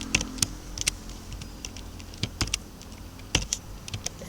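Fingers type HTML code into Notepad on a computer keyboard, producing close, irregular clicking keystrokes with occasional louder key hits over a faint background hum.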